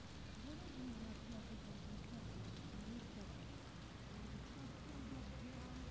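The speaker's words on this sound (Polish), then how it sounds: "Żerków przywitał mnie pogodą taką deszczową." Steady rain falls outdoors in Żerków, Poland, a constant soft hiss of drops at low level that fills the whole stretch.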